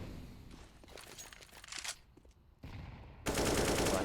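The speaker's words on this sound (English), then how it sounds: "Becker gonna take care of them both with his AK-47" Bursts of AK-47 automatic fire in a competitive first-person shooter match, sounding as quick rattling volleys that grow louder toward the end, with a sustained close burst closing the clip.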